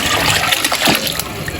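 Broth being poured into a pot of cooking beef trotters, a continuous close liquid splashing and trickling with a few brief bursts and no voices.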